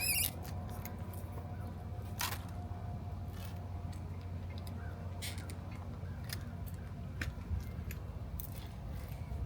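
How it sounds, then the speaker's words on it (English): Wire being snipped and crimped while making a double-twist tensor ring: a few crisp cutter snips and small clicks over a faint steady background hum, with no one talking. "We're gonna snip the end, and now we're gonna crimp again."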